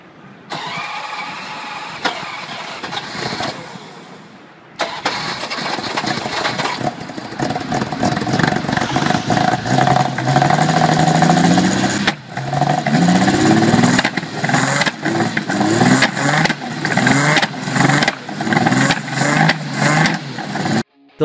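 A Lamborghini V12 supercar engine cranks and fires up, then roars through repeated loud revs with rising and falling pitch before settling, heard up close.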